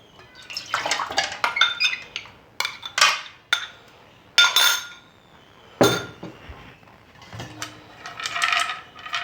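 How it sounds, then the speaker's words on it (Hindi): Tamarind water strained through a metal sieve in a home kitchen, with repeated clinks and scrapes of spoon against mesh and bowl, splashes and drips coming in irregular bursts, close and fairly loud, with no talk. "हम सबसे पहले इस तरह की छलनी ले लेंगे और उसमें से हम ये जो इमली का पानी"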